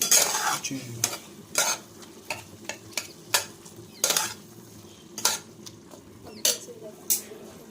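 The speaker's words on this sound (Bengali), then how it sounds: "একটু ভালো করে কষিয়ে নেব সবজিটাকে।" Cauliflower stalk vegetable curry being stir-fried in a pan, with a spatula scraping and knocking the pan in repeated short strokes over a soft sizzle.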